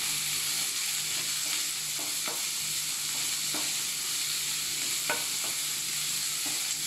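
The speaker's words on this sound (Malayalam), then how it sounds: "ഇനി നമുക്കിത് നന്നായിട്ടൊന്ന് ഇളക്കി കൊടുക്കാം." Sliced onion and green chili sizzle steadily in a hot pan, with a continuous frying hiss and repeated soft scrapes and knocks of stirring throughout, no talking.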